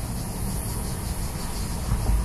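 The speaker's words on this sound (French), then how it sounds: "je vous fais écouter les grillons." Crickets chirp outdoors in a steady, continuous high trill over a low background rumble, with no voices.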